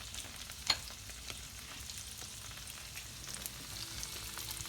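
Club sandwich bread grilling in butter in a pan gives a steady, soft frying sizzle throughout, with one sharp tap near the start and a few faint clicks, and no talking.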